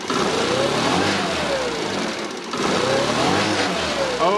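A Kymco Super8 4T scooter with a carburettor problem revs up twice in a row, each rise stumbling slightly as the engine climbs, loud and close with no voices over it.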